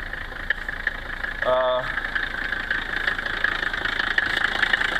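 A 1977 Mercedes 300D non-turbo diesel idles steadily nearby, a constant rattling hum throughout, with a brief vocal sound early on.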